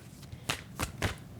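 Tarot cards are shuffled by hand in three quick riffling bursts, close and soft, with no talking over them.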